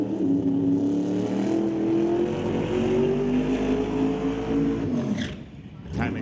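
A 1968 Camaro doorslammer drag car with a 567-cubic-inch turbocharged engine roars loudly and steadily under a commentator's voice at a drag strip, then its engine note drops sharply and cuts near the end.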